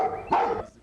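A man imitates a dog barking on a French TV show, giving a short whimpering lead-in followed by one loud, gruff bark-like yelp, close and alone.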